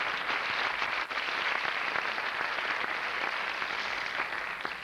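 An audience gives sustained applause at a 1985 designers display event in New York, a dense wash of clapping that stays fairly loud and even throughout.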